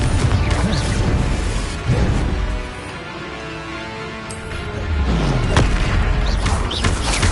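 A Confringo explosive spell blast in a Harry Potter video game booms loudly with crashing impacts, easing into a rumbling lull and then swelling into another heavy burst of blasts.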